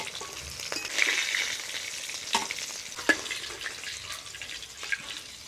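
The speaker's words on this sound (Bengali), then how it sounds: "মাছগুলো এইভাবে লাল করে ভেজে নিব।" Snakehead fish fries in hot mustard oil in a pan, giving a continuous bright sizzle with scattered pops and occasional utensil clicks, close and moderately loud, with no speech.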